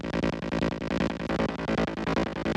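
A buzzy synthesizer tone from the first oscillator of a Vital synth patch for hard techno plays in a rapid, pulsing rhythmic pattern, loud and continuous with no voices.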